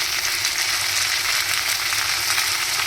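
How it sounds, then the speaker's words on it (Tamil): Tomato thokku sautés in hot oil with a steady, dense sizzle that holds unbroken throughout, close and even, with no talking. "இப்படியே எண்ணெயிலே வதங்கணும்."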